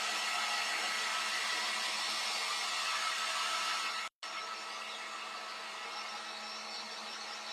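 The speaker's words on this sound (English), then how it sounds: "I'll take my heat gun and I'll put them here on the beads just to speed it up a little bit." A heat gun blowing hot air over drying beads threaded on a metal stick, a loud steady fan roar and hiss that cuts out briefly midway, then resumes alone.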